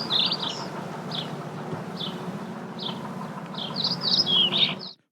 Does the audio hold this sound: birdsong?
yes